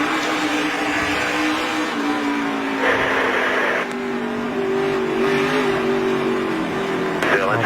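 NASCAR race cars at speed during a multi-car wreck, a loud continuous engine roar with shifting revving pitch, heard under commentators' voices.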